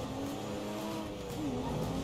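A Porsche 911 race car engine in a racing video game drones steadily with tonal whine and shifting pitch for about two seconds, sounding close and alone without talk.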